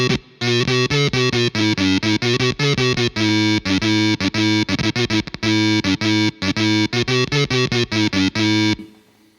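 Electric guitar through a Red Witch Synthotron III synth pedal with its first voice set at unison gives a buzzy, synth-like tone on rapid, evenly chopped notes, loud and close with no talking.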